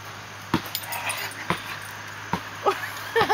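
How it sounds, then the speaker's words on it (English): Doberman dogs play-fighting, giving short growls and whimpering yips in several bursts, fairly close, with a steady background hum. "Big Doberman!"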